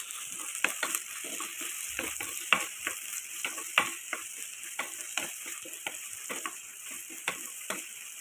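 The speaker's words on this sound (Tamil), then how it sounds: "இப்போ இதை நல்லா கிளறி கொடுத்துடலாம்" Brinjal and garlic curry fries in a pan while a spoon stirs and scrapes it, making repeated clacking strokes over a continuous soft sizzle, close and fairly loud.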